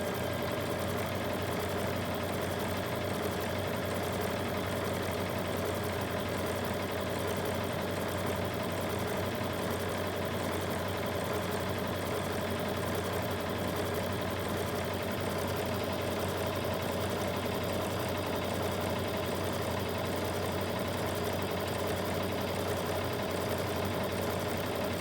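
A sewing machine stitches fabric for a Valentine's love letter pillow, running at a fast, steady, continuous whir with a close, even mechanical hum and no pauses or talk.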